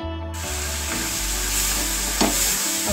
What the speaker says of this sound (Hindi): अब इसे अच्छे से हम मिक्स कर लेंगे।